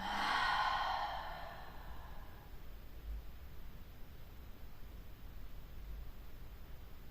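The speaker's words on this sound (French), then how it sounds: "Une dernière fois, on inspire. Et on expire." One deep, breathy exhalation during a yin yoga session rushes out loud and close in the first second, then fades into a quiet room hiss with no speech.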